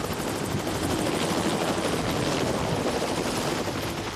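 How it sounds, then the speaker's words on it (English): A helicopter's steady, loud rotor roar fills the whole stretch, a dense rushing drone with no break and no voices. "19-year-old Cody McQuillan was transported by helicopter to Utah Valley Regional Medical Center."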